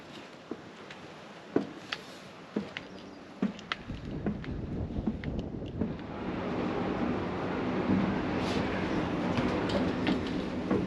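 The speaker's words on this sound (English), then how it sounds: "The wind's really ripping through here right now because we're obviously well above the tree line." Strong wind rips across an exposed summit above the tree line on Spruce Mountain in Vermont, a loud, steady roar that builds and gusts throughout, with a few scattered knocks and bumps near the start.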